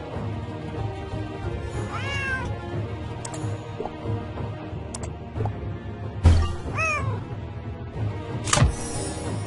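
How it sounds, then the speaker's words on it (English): Cat meowing in a Nancy Drew mystery game, several drawn-out rising meows over a steady low ambient hum, with a sharp bright crash near the end. "There's that cat again."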